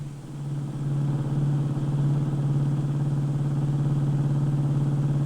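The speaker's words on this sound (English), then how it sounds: "We all piled in the car and drove to town." A 1950s Ford car cruises along a country road toward town, its steady mid-pitched engine drone holding constant and close with no voices over it.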